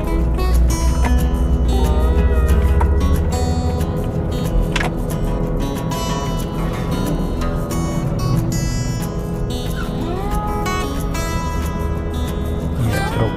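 A truck rolls down a steep road in Minas with a steady engine drone and road rumble, its brakes working on the descent; continuous and loud, with a pitch sweep partway through.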